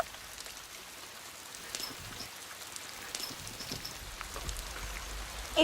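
Steady light rain falls outdoors on a wet day, a soft continuous patter of drops with no voices, fairly quiet and even throughout.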